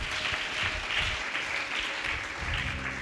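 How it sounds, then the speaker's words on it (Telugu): Congregation clapping during a Sunday worship service, a continuous crowd of hands at moderate volume with faint voices underneath. "చప్పట్లు కొట్టి ప్రభువును మహింపరచండి."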